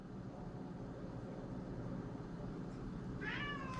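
A cat meows near the end, a short rising-falling call over a steady low background hum, with no talking.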